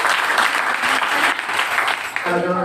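A crowd at a singing event breaks into loud, dense applause close by, which fades near the end as a brief tonal voice or note comes in.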